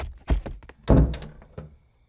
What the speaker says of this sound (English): There's a door here, and it's locked.